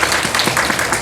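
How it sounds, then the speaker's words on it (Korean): A church congregation at a Sunday morning service in Mokpo gives a short, close burst of clapping, loud and brief. "한번 뜨거운 박수 부탁합니다."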